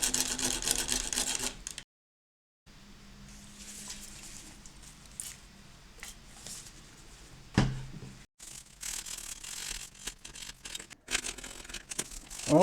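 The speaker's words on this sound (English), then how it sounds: "I'm just gonna use a flathead screwdriver to get the glue residue off" A flathead screwdriver scrapes old glue residue off a Game Boy DMG in quiet, uneven bursts of scratching and rubbing, with pauses and a few sharper scrapes in between.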